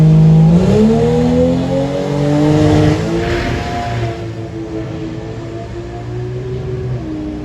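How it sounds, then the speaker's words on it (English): A drag racing car at Santa Pod accelerating down the strip, a loud high engine wail that drops in pitch as it roars away into the distance, fading but still present at the end. "Armin is doing 115, and he goes through the top end with a 987 at 144, a new personal best for Big Man Ting Racing."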